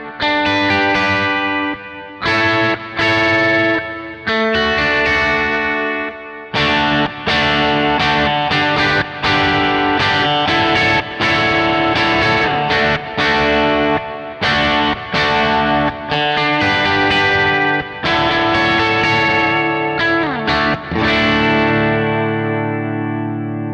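Guitar chords in a D shape strummed over about 24 seconds, played first without and then with an open D pedal string droning beneath; loud, effected electric tone with distortion and chorus, rhythmic phrases separated by brief gaps, no talking.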